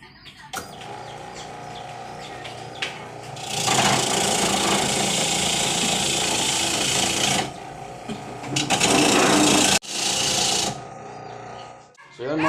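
A homemade coconut grater driven by a washing machine spin-dryer motor rasps loudly and continuously as coconut is scraped, with someone talking and roosters crowing nearby.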